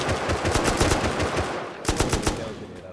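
M249 light machine gun firing in the Rust survival game during a helicopter fight, rapid sustained bursts of automatic fire, loud and close, with a brief pause before another short burst.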